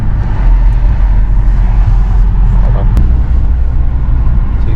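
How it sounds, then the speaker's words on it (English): A BMW F30 3 Series drives along with a steady low engine and road rumble heard from inside the cabin, a constant close drone with no talk. "Let's go for a little drive."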